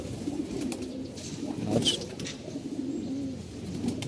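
Low, soft pigeon cooing murmurs steadily in the background, with a faint higher chirp or two over a continuous ambient hum.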